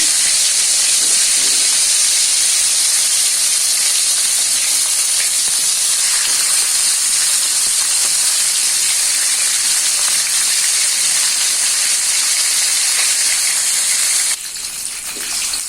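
Chicken pieces fry in hot oil, a loud, dense, continuous hiss and crackle that holds steady up close for the whole stretch and dips slightly near the end, with no talking.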